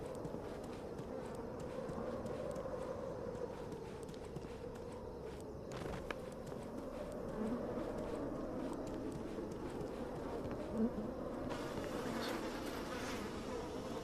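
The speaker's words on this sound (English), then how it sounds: "Flies buzzing about." Flies buzzing in the survival game Misery, a steady droning hum that fills the whole stretch at moderate loudness with small thumps and shuffles now and then, and no one speaking.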